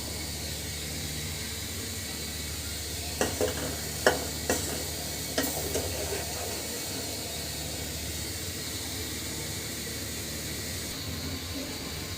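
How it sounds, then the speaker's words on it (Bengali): A spice paste for a Bengali fish curry with bitter gourd, potato and tomato fries and is stirred in a pan, giving a constant close sizzle with a few sharp utensil scrapes and taps in the middle. "মশলাটা খুব সুন্দর করে কষিয়ে নিব।"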